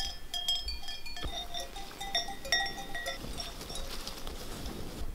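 A flock of about 500 sheep bleat, with scattered clinking bells ringing irregularly and soft shuffling in the background, in Romania.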